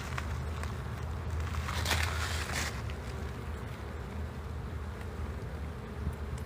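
Honey bees buzz in a steady, close drone while a hive is opened and inspected, with light handling noises and no talk.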